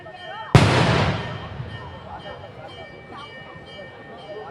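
A single loud firecracker bang at a Tamil temple festival, a sharp close burst that decays over about a second into faint background noise and distant voices.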